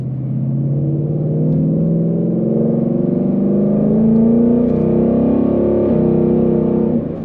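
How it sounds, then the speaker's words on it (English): Ford Mustang with a 10-speed transmission, its exhaust droning loud and close while driving, revs climbing smoothly and then easing off with one brief shift. "You know, you get that awesome exhaust sound."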